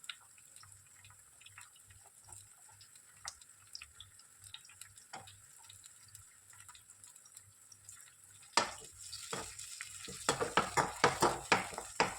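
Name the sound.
green peas (batani) frying in a pan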